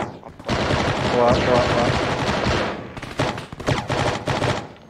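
Rapid automatic gunfire in the military shooter Arma 3 during a night compound raid crashes out in sustained loud bursts, then in choppier volleys, with brief speech in between.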